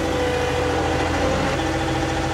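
Small John Deere 2038R compact tractor engine running steadily while plowing snow, a continuous mid-pitched hum that stays close and even throughout with no talk.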